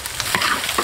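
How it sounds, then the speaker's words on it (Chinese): Chicken pieces tossed in a wok with crisp dried chilies and chili bean paste for Sichuan spicy chicken: sharp scraping stir strokes over a dense, close sizzle in a short burst. "干海椒炒至干香酥脆，放入豆瓣酱，炒出红油，放入鸡块回锅"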